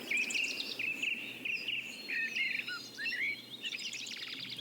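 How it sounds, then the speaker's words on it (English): Blackbird singing deeper in a forest woodland, clear fluting phrases in several bursts at moderate distance over faint insect and woodland background, with brief twittering from other birds near the end. "You can just make out a blackbird singing from deeper in the woodland."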